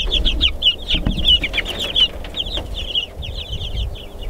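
Chickens in a farmyard coop cluck repeatedly in quick, close bursts, with overlapping calls running throughout over low background rumble.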